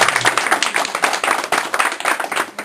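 A congregation claps together to welcome a teacher, with dense, lively applause throughout, close and loud.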